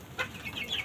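Fayoumi chickens at a poultry farm give a brief, soft cluck or two, close by and fairly faint, over a low background hum with no voices.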